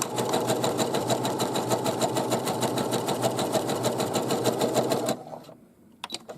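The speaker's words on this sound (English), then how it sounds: "Drop our needle down, hold on to your threads, and we're going to just stitch this up to the top." A sewing machine runs steadily and fast, stitching a zigzag fly seam on shorts or pajama pants, a close rhythmic mechanical chatter that stops abruptly near the end, leaving a few faint clicks.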